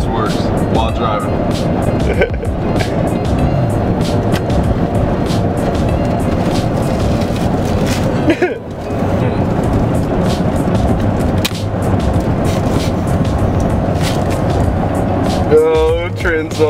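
A car drives along the road with a steady, loud broadband rumble of engine and tire noise, a few brief bumps and louder passes breaking the continuous drone throughout.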